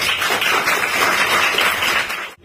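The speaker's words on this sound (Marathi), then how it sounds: "तर तुम्हा सर्वांसाठी आणि क्लासेसचे संचालक आदरणीय गणेश खंडारे सर त्यांच्यासाठी एकदा जोरदार टाळ्या होऊन जात आहे" An audience at a classes event claps in dense, steady applause that fills the room for about two seconds before cutting off abruptly, with no talk.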